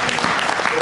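A church congregation applauds the Lord in a brief, dense burst of clapping from many hands, steady and loud, with voices mixed in.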